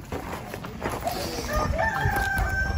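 A rooster crows in the background amid a busy outdoor scene at a military barracks with steady ambient noise and some chatter.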